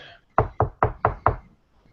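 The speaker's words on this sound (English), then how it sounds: "hear a knock on the door." Five firm knocks on a door in a steady, evenly spaced rhythm, loud and close, with quiet before and after and no talking.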